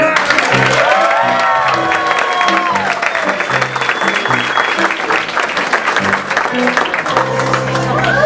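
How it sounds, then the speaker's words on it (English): An audience at a charity event claps steadily for a guest welcomed to the stage, a broad wash of applause with a few cheers, while voices talk over it close to the microphone. "Thank you for that really rousing, rip-roaring round of applause."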